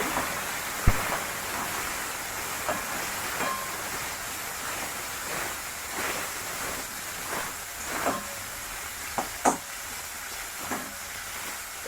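Bitter gourd palya frying in a pan gives off a steady sizzling hiss, with occasional soft clinks and scrapes of stirring, close and continuous without speech.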